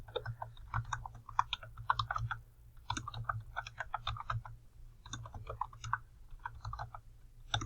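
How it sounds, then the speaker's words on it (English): Typing on a computer keyboard, with quick irregular bursts of key clicks separated by short pauses over a low steady hum, close and fairly quiet, with no talking. "I'm going to type in when,"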